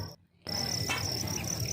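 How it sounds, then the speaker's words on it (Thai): Live crickets kept at a stall in a Thai riverside market chirp in a constant high, shrill trill, briefly cut off for a moment before resuming steadily at moderate level. "แล้วก็จะมีเสียงจิ้งหรีดร้องระงมไปหมดเลยค่ะ"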